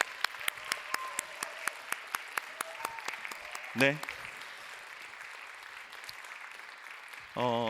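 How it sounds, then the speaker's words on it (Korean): A church youth worship congregation claps in welcome, with sharp, evenly spaced claps ringing through the room before fading, under someone speaking over a microphone. "우리 박수로 환영합시다"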